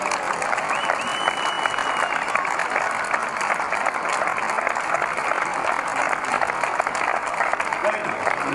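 An audience applauds at a fire brigade's 40th anniversary event in Alcorcón. The clapping is loud and continuous, with some crowd noise mixed in, and it lasts the whole clip.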